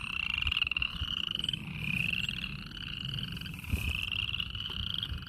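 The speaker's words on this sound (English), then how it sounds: "them frogs are right there. Them coming from that noise that you're hearing" A chorus of frogs croaks steadily from water on a farm, layered trilling calls overlapping continuously at moderate distance with no talking.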